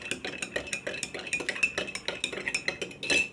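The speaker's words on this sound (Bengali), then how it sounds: "আগে আমি দুধটাকে ভালো মতো মিশিয়ে নিই" A spoon stirs milk in a cup while making coffee, clinking steadily and rapidly against the sides in a close, continuous rhythm with no talk.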